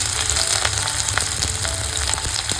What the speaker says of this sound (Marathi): मस्त तेल तापलेले, कांदा घालून घेतोय.